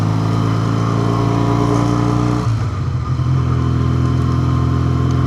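A 1962 Triumph Tiger 90 motorcycle rides steadily at close range, its engine droning loudly and continuously, with the pitch dropping briefly midway as the throttle eases before the engine settles back into a steady run.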